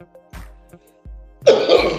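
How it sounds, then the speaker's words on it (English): Several short throat-clearing coughs sound close to the microphone, followed by a rougher, louder cough at the end. "I got a cough that ain't coming out"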